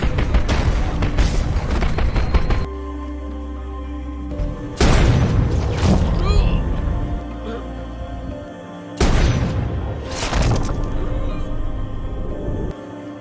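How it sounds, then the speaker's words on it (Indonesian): Mortar explosions in a war film battle scene, with loud heavy booms arriving in bursts and dense rumbling impacts separated by brief quieter stretches. "Mereka terus diserang dan diserang menggunakan mortir."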